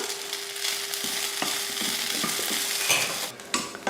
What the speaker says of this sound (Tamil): கொஞ்சம் எண்ணெய் ஊற்றி இதை வதக்கிடலாம்